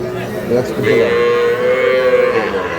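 Calves low in long, drawn-out moos over a steady background murmur of people at the busy outdoor Ambari cattle market.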